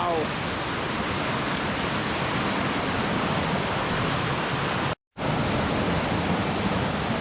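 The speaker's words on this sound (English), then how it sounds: "look at the speed of this river going down here" A fast-flowing river in Scotland rushes in a loud, continuous broadband roar close to the microphone, cut off by a brief moment of silence near the end.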